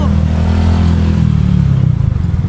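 A motorcycle engine runs loud and close, a steady low rumble with revving that rises and then falls off, in a busy street setting at a food alley.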